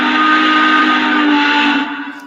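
Steam locomotive whistle from a model train sound system for a Legacy AC-12 Cab Forward: one loud, sustained breathy chord that holds for about two seconds, then tapers off, with no voices.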